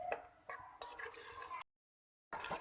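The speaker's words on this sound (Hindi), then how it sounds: "तो मैं इसमें डालती हूँ पानी थोड़ा सा" Small amount of water poured into a pressure cooker holding beef liver masala, a brief splashing trickle in short bursts broken by a silent gap, fairly close.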